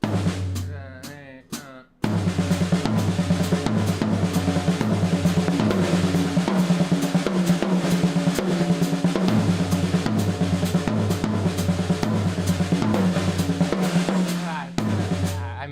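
Looped drum pattern featuring a high tom, repeating in a steady, busy rhythm for over ten seconds after a brief few hits at the start, then stopping abruptly.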